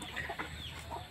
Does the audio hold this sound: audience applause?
no